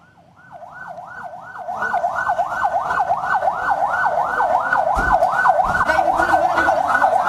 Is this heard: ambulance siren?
yes